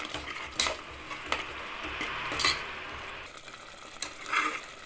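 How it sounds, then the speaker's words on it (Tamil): Paya kulambu broth bubbling in a pot, a dense, continuous hiss and bubbling texture with occasional louder bursts and faint clinks of utensils, close and steady throughout. "பாருங்க இப்போ ஒரு கொதி வந்துருச்சு"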